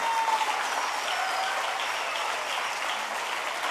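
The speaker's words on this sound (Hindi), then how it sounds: "तालियां नहीं रुकनी चाहिए।" Audience at a stage event welcoming a woman onstage erupts in continuous, even applause, dense close clapping that holds steady for several seconds with a faint whistle early on.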